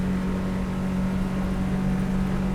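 A Haines Hunter 565R boat with a Yamaha F150HP outboard runs at speed at about 5700 revs, giving a steady loud engine hum and water rush with no break.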